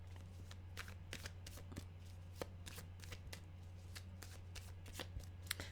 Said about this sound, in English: these cards really want to be shuffled